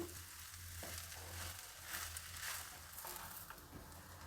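Tomato avalakki, flattened rice with tomato, frying in a pan over a low flame, a steady close sizzle with soft stirring scrapes and a low hum underneath, no voices.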